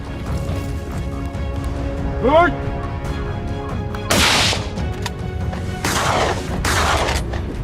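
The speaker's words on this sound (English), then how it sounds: "we unleashed a hail of gunfire" Loud bursts of gunfire from hunters shooting wild boars crack out in a few heavy volleys over a noisy background, with a brief rising whine between shots.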